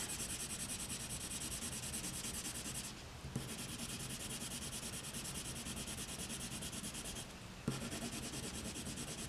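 A Holbein artists' colored pencil in Signal Red rubs steadily across paper, a close continuous scratchy shading sound with two brief pauses as the pencil lifts and resumes.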